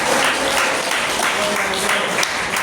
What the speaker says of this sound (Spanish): ¿Cuánto le da un aplauso al Señor?